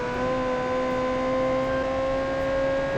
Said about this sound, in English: Revving it out, baby.